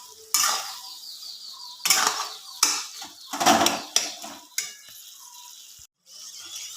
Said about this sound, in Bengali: যে ভালো করে কুলগুলোকে নাড়াচাড়া করতে থাকবো।